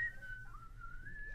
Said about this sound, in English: Let's try to whistle.